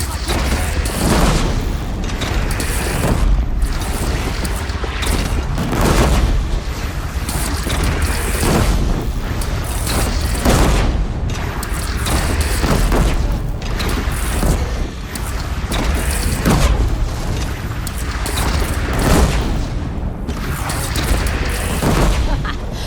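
Repeated booming cannon fire and explosions from a bandit camp battle in the video game Horizon Zero Dawn, loud and continuous with heavy low rumble and bursts every second or two, mixed with game chatter.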